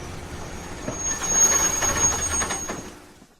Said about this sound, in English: Finally, the train stops.